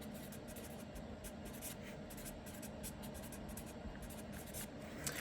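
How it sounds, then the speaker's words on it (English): A pen writing notes by hand on paper, with quick repeated scratchy strokes close to the microphone, steady and faint throughout. "So I'm just going to write it like here,"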